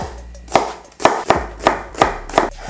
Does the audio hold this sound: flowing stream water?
no